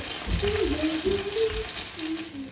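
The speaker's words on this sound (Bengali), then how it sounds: "এখানে দুইটা তেলে ভাজবো" Chicken chaap frying in oil sizzles steadily in a continuous hiss, with soft low bubbling and a faint humming voice drifting over it.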